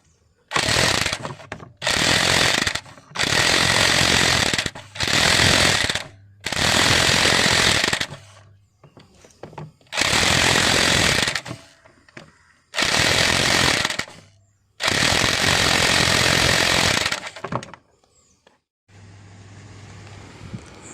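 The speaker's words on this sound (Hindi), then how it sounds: "निकालने की ट्राई करते हैं इस पावर रेंच से।" Power wrench hammering at the high-torque crank pulley bolt of a Chevy Aveo, about eight loud, harsh bursts of rapid impact rattling, each a second or two long, separated by brief quiet pauses.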